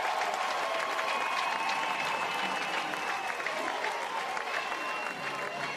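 A packed house of Texas and Texas A&M fans at McCombs softball stadium roars and claps steadily throughout, a dense, loud crowd noise with a faint whistle-like tone running through it and a slight dip near the end.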